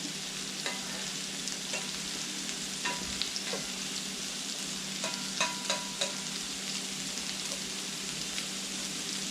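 Onions fry over high heat on a stovetop, a constant close sizzle and hiss with scattered light scrapes and taps as they are stirred in the pan.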